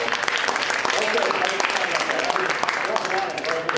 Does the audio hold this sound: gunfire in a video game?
no